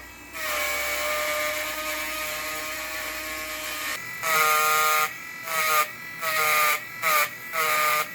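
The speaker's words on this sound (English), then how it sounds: "I use a Dremel tool to bring out the details" A Dremel rotary tool whines as it details painted metal: one long steady high-pitched run, then a series of shorter on-off bursts, close and loud.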